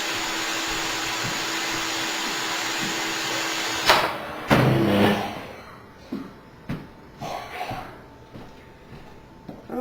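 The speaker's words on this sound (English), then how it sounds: "Okay, let me shut off the vacuum." Vacuum forming machine's vacuum roars loudly and steadily, then cuts off partway through, leaving scattered clicks and knocks from handling the frame and plastic.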